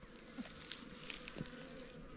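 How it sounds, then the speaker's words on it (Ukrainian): Bees hum faintly and steadily nearby, with a few louder passes close by and no voices. "Чи якісь бджоли"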